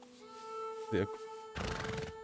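A horse in the video game Red Dead Redemption 2 gives a brief whinny, then a longer breathy snort follows, over a steady electronic hum in the background.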